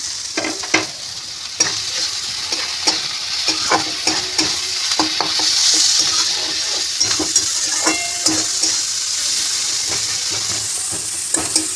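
Chopped onions with stalks frying in a pan for aloo paratha prep, a continuous close sizzle punctuated by repeated sharp spatula scrapes and taps against the pan.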